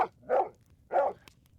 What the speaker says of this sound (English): Why am I just now hearing Muffin barking